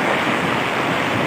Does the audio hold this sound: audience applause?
no